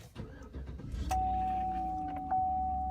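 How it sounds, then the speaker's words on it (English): A car engine starts after an oil change, first with key and cabin rustles, then a starter crank that settles into a steady idle with a faint whine, heard fairly close. "We're going to go ahead and start the vehicle."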